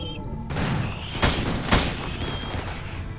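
Gunfire in the video game RimWorld: a couple of sharp, loud shot bursts ring out over a busy battle soundscape, with faint tonal game effects in the background.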